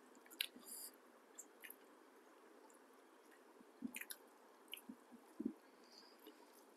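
Faint, close, wet chewing and squishy mouth clicks while someone eats saag greens, coming in small irregular bursts over a quiet background.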